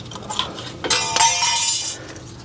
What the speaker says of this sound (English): Those are just our shims falling out.